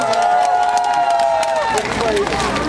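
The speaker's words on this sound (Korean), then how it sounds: "다시 한번 큰 박수가 필요합니다. 박수 보내주십시오." A crowd applauds and cheers for Park Min-su, a local son of Seocheon, at a South Chungcheong fisheries managers' convention, the clapping mixed with a sustained sung or held tone and hubbub.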